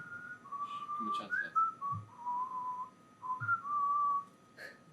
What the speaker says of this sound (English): I could air whistle.